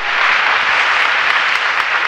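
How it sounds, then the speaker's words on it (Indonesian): A church congregation bursts into loud, thick applause for God during a sermon, a continuous close roar of clapping with no break across the short stretch. "Tepuk tangan buat Allah kita"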